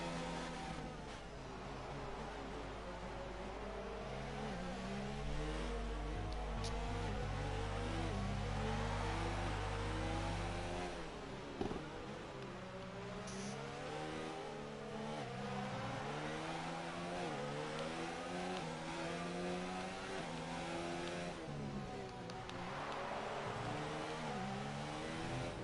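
Open-wheel F3 race car engines in an eSports racing game at the Russian Grand Prix wail and rise in pitch through the gears, braking and accelerating again, with several cars overlapping continuously.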